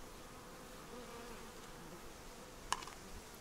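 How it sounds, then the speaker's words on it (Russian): Honey bees drawn by the scent of sunflower honey in a 3-liter plastic bucket buzz around it, a soft steady hum with one louder close pass near the end. "Сразу пчелы прилетели на запах."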